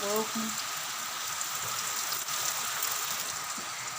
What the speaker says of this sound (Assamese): বৰষুণ দি আছে আমাৰ ইয়াত